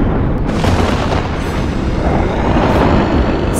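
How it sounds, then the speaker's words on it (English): Cartoon volcano erupting in a dinosaur comedy: a continuous, loud, roaring blast of rumbling noise that fills the whole stretch without letting up. "Then finally, the volcano blasted."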